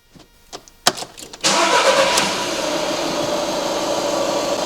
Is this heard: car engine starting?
yes